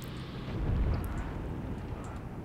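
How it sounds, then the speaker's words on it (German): Explosions in the WWII shooter video game Heroes & Generals, a deep rumbling blast swelling then fading into a low booming roar, loud and close, with no talk over it. "hier neben explodiert alles"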